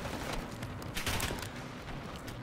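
Rapid gunfire bursts in the Call of Duty mobile video game, heard as fairly quiet, dense clustered shots over a few seconds.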